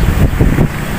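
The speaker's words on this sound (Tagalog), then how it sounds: "Grabe yung hampas ng hangin banda doon" Strong wind buffets the microphone in a steady, rumbling roar, gusting unevenly throughout the short stretch.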